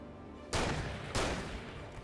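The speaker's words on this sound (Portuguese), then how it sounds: "Quatro tiros de espingarda." Two heavy shotgun blasts from the Alan Wake video game, each a sudden loud boom with a long decaying tail, about half a second apart, with no talking over them.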